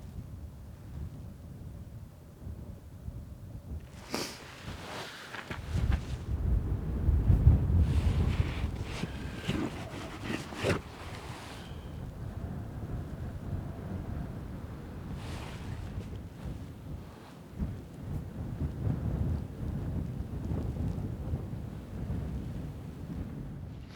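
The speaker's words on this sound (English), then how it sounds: "it is cold and windy" Cold wind blows across a canyon in the Colorado wilderness during an elk hunt, a rough buffeting roar against the microphone that rises and falls in strong gusts and has no speech over it.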